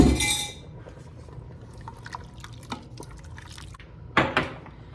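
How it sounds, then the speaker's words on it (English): Beef broth made from beef base, three cups, poured into an Instant Pot for vegetable hamburger soup: a burst of liquid splashing at the start, then faint drips and small clinks, with a second short pour near the end. "I have 3 cups of beef broth that I made from a beef base. I'm going to put that in, 3 cups."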